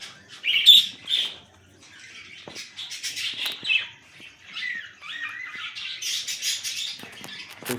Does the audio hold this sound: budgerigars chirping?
yes